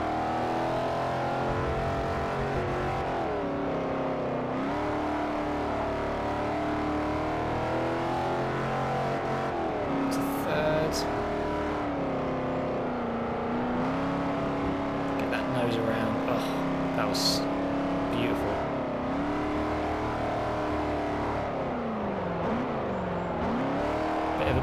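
Race car engine in Forza Motorsport 4 holds a continuous loud whine, its pitch sliding up and down through shifts and corners, with faint bursts of tire noise as the car drifts; a voice talks over it at times.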